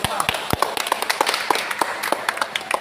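A small group claps hands in uneven, scattered bursts after an engine repair in a workshop, with talking underneath the sharp claps throughout.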